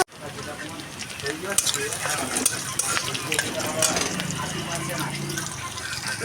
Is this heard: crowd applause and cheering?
no